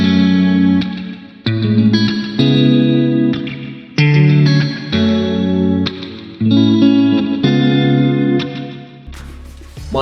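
A clean guitar through Ableton's default amp with reverb, EQ and a half-note delay plays chords in a slow rhythm, each one ringing into a spacious echoing tail, with a deeper bass note at the end.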